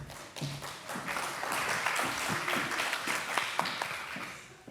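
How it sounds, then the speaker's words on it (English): Scattered audience applause at a conference panel session, a modest spread of individual claps that rises and thins out, moderately distant in a large room. "It's better to take the applause at the beginning"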